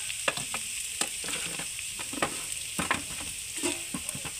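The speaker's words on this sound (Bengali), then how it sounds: "এবার গাজরগুলিকে ভালো করে ফ্রাই করে নেব, খুব সুন্দর করে ফ্রাই করে নেব" Carrots fry in ghee in a pan with a bright, steady sizzle. Frequent scrapes and taps of a stirring spoon punctuate it, all close by and without speech.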